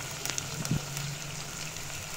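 Vegetables sautéing with a little salt in a pan for a white kurma gravy, a faint steady sizzle with a few soft clicks of stirring, no talking.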